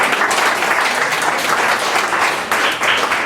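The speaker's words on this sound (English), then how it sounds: "That's worth a round of applause." Steady, loud applause from a lecture audience on conservation fills the whole stretch, a dense wash of many hands clapping with no speech over it.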